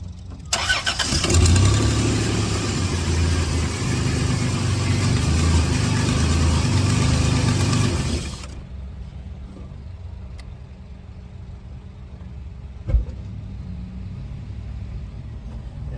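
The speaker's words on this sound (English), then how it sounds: "I'm gonna start it and turn that wheel." A 2004 Dodge Grand Caravan engine cranks and starts loudly, runs with a strong broadband roar for several seconds, then settles into a quieter, steady idle with one brief knock near the end.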